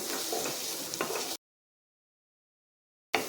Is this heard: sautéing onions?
yes